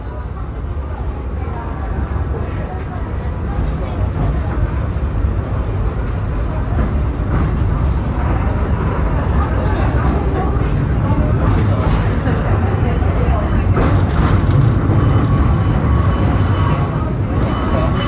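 A sightseeing trolley train on the Sagano scenic railway near Kyoto, departing the station, rolls along with a loud, steady rumble and clatter, with wheels squealing against the rails throughout.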